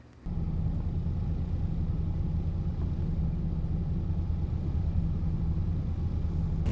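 Steady low car engine rumble while driving after Hurricane Milton, a constant drone with road noise heard from inside the vehicle, no talk.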